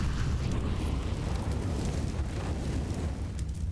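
Grenade explosion in the game CS:GO during a pro match, a dense, continuous low rumbling blast with roar that holds steady for several seconds, loud and close with no talk over it.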